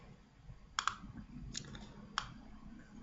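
Light typing on a computer keyboard, a few sharp isolated key clicks in a quiet room, spaced irregularly over a few seconds with no talk.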